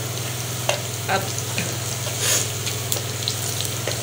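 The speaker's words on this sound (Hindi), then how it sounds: "अब ये देखो ये मेरा तड़का हो रहा है तैयार बिल्कुल" Spice tempering for chana dal frying steadily in a pan, a continuous sizzle with a few stirring clinks, close by and fairly quiet, with a woman's single word spoken briefly over it.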